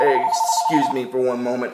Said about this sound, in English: That was my handheld phone ringing.